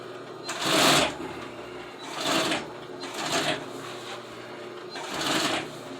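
A sewing machine stitches seat upholstery fabric for old Suburban seats, running in four separate loud bursts of rapid whirring, with short quiet pauses between them.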